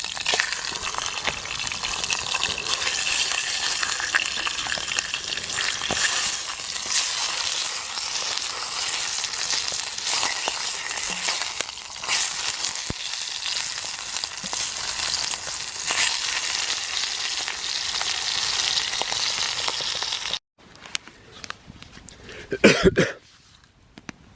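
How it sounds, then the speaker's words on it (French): Bacon fries in a pan at a snowy winter bivouac at minus 5 °C, giving a dense, steady sizzle for about twenty seconds before it cuts out, leaving a few faint clatters. "Voilà le bacon, bien grillé"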